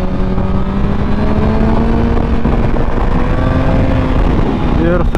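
A Honda CBR1000RR SC57 sport motorcycle is ridden at speed with a loud, close engine drone under strong wind noise, rising into a sharp rev near the end.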